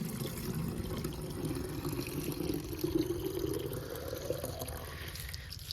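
Water runs steadily into a container from a farm water supply in a field, a continuous close gurgling fill that rises gradually in pitch as the vessel fills, with no talk over it.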